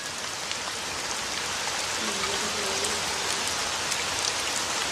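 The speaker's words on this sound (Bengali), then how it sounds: "ব্যালকনিতে দাঁড়িয়ে দাঁড়িয়ে এরকম বৃষ্টি দেখলে কতই না ভালো লাগে" Steady rain falls at night in front of a balcony, a dense, even patter that holds at a constant level for the whole stretch, with no voices.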